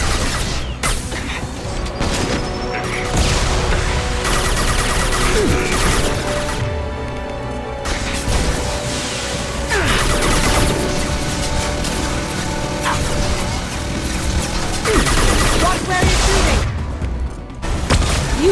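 Gunfire in Mass Effect 2 during Kasumi's loyalty mission rattles in dense bursts mixed with crashes and booms, loud and continuous, with occasional voices over the combat.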